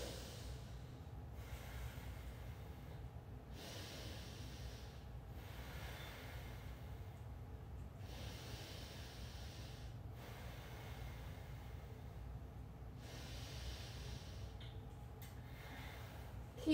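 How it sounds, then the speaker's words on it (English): Slow nasal breathing during a yoga power flow, soft and close, with steady in-and-out breaths repeating every couple of seconds against a quiet background and no talking. "just start breathing in through your nose and out through your nose"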